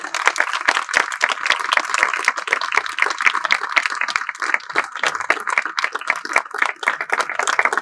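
An audience at a Christmas and New Year festival run by the Living Water Society claps steadily for a pastor taking the stage, a dense, sustained patter of many hands close by, with no voices over it.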